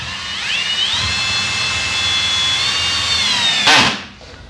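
A Kobalt 24-volt cordless drill drives in with a steady, close, high-pitched motor whine that rises slightly as it runs for several seconds, then ends in a brief rough burst and cuts off.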